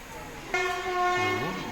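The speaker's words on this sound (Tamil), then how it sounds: "ட்ரெயின் கிளம்பிருச்சு." A train on a Tamil Nadu to Kerala journey sounds a loud, sustained horn as it departs, ending in a falling pitch sweep, with rumbling rail noise beneath.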